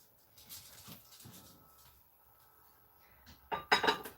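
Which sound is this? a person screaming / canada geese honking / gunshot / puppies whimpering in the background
puppies whimpering in the background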